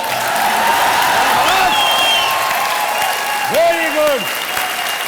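Loud, continuous applause from a TV show audience fills the room, with a voice speaking briefly over the clapping.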